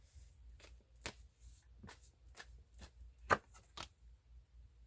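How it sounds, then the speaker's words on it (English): Tarot cards being shuffled and drawn from the deck: a series of short, crisp riffling snaps and soft slides at irregular intervals, close and quiet against a low background hum, with no talking. "I'm going to pull some clarification cards on top of those"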